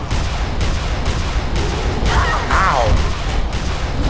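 Dense gunfire fills a zombie-fighting fight in the video game Dead Island as a loud, continuous barrage of overlapping shots, while a voice briefly speaks over it near the middle.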